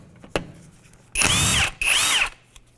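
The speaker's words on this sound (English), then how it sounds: "With a 17mm socket, we're going to remove this rear wheel." Power tool spinning off the lug nuts of a rear wheel on a 2012 Mitsubishi Outlander with a 17mm socket: a sharp click, then two loud, close whirring bursts of about a second each, separated by a short pause.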